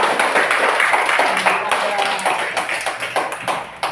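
Classroom of children clapping hands together on cue, loud close claps in a quick, regular rhythmic pattern that continues steadily throughout.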